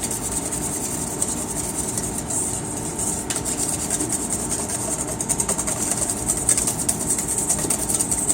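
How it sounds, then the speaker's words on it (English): Liquid ingredients for pasta dough, including olive oil, are whisked together in a bowl with a steady, continuous scraping rattle that stays close and fairly loud throughout. "you're gonna whisk that together well"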